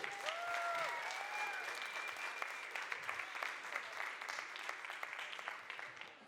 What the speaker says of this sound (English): Give yourself some round of applause again.